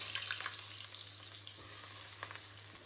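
Onions frying in oil for beef biryani, a dense even sizzle and crackle with a few faint stirring sounds, steady and close throughout without voices.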